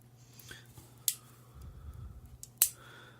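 Small scissors on a Swiss multitool give two crisp, sharp snips about a second and a half apart, close and quiet between cuts, with faint handling noise around them.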